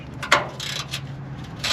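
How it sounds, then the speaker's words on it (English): A 3/8 ratchet loosens 12mm skid plate bolts under a 1998 Land Cruiser Prado, with a few quick close clicking bursts of the pawl over a low hum. "You should be able to get these off with the 3/8 ratchet."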